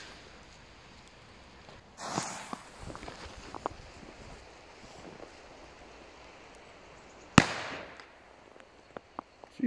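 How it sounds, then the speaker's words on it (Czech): Two sharp firecracker blasts in snow, the second louder and crisper, each followed by a brief spray of scattering snow and small pattering sounds. "Takže petarda bomb."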